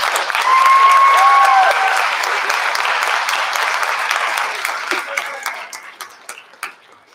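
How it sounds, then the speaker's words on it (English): A high school concert audience gives a round of applause for a choir singer, loud dense clapping that gradually thins into scattered claps, with a faint high tone early on. "So let's give her one more round of applause."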